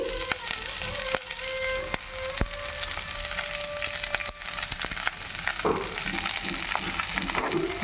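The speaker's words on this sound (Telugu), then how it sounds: "బాగా వేయించుకోవాలి క్రిస్పీగా వచ్చేంత వరకు వేయించుకోవాలన్నమాట" Curry leaves fry in hot oil in a pan until crisp, a loud, dense crackling sizzle throughout with occasional stirring scrapes and pops, close-up and continuous.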